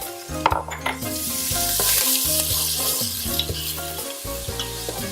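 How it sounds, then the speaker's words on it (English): Onions sautéing with bacon bits in a pot for clam chowder, a loud close sizzle with stirring scrapes and clatter throughout, with a steady tonal hum beneath and no speech. "And then we're going to put in our onions. We're going to saute"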